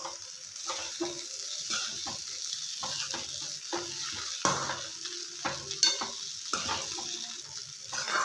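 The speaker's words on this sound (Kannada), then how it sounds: "ಚೆನ್ನಾಗಿ ತಳ ಹೊತ್ತಲಾರ್ದಂಗೆ ಕೈಡಿಸ್ಕೊಳ್ಳೋಣ." Poha (flattened rice) is stirred in a hot oiled pan to keep it from sticking and burning, with a soft, steady sizzle under repeated scraping and tapping strokes of a spatula against the pan.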